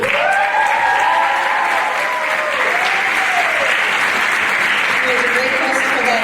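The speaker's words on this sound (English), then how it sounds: "how about a big round of applause for our MC, Mike Gucci." Loud, sustained audience applause fills a high school Mr. Hoosac 2022 pageant event, steady throughout with a few cheers and whoops rising above the clapping crowd.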